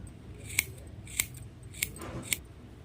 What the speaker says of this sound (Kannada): ಟ್ರಿಮ್ ಮಾಡ್ಕೊಳ್ಳಿ.